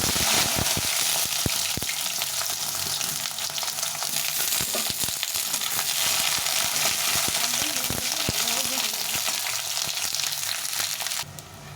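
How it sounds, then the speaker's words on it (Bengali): Brinjal frying in hot oil with no salt or turmeric, a dense continuous sizzle and crackle throughout, close and steady, with occasional scraping stirs. "তেলটা গরম হয়ে গেছে আমি প্রথমে বেগুনটাকে ভেজে নেব"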